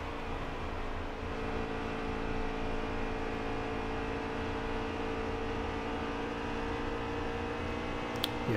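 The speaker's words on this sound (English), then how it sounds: "you can probably hear the engine tone at this point" A steady race car engine drones at partial throttle in NASCAR Heat 3, a quiet, even hum with a constant tone and no clear revving, heard in the Homestead Cup season finale.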